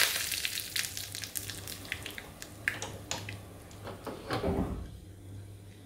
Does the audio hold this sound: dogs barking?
no